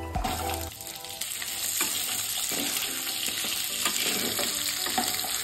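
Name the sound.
onion, garlic and ginger frying in hot mustard oil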